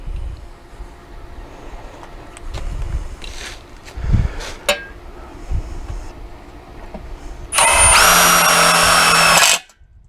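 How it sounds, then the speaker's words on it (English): A power drill drives self-tapping screws into a wrought iron gate hinge, one loud sustained whir lasting under two seconds near the end, after scattered handling knocks and clatter. "The screws are self-tapping."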